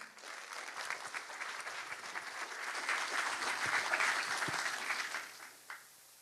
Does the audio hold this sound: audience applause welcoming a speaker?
yes